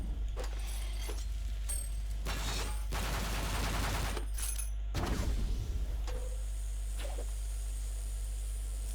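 Enemies in a video game open fire in short, harsh bursts of gunshots over a low, steady background hum, with a longer rattling volley in the middle and quieter mechanical clicks afterward.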